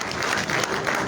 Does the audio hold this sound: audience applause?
yes